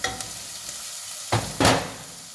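Chopped onion goes into a hot pan for mushroom soup, giving two short, close sizzling bursts after a quiet start.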